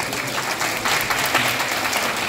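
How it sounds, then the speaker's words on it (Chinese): Audience applause at a Lions Clubs International award ceremony, a steady wash of many hands clapping close and fairly loud for a couple of seconds with no voices on top. "是不是跟他鼓掌一下？"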